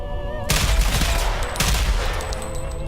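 Light machine gun fire in the Ghost Recon Phantoms video game, a loud sustained burst of rapid shots that starts abruptly and keeps going with a brief surge partway through, with no talking.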